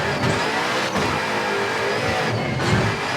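A rally car engine in the video game V-Rally 4 drones steadily while driving on a slippery surface, with gritty tire and road noise and small throttle swells throughout, loud and close.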